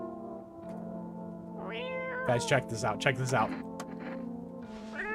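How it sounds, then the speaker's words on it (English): A cat in the video game No, I Am Not a Human lets out several short, clear meows in quick succession, close by, while someone talks over them. "Yeah, look at this cat. That is a nice cat."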